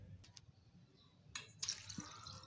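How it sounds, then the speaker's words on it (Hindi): Water poured from a glass into milk in a saucepan, with a brief splash and trickling that builds toward the end, close by, over low background noise. "और अब हम इसके अंदर अपना 1 गिलास पानी ये भी ऐड कर देंगे।"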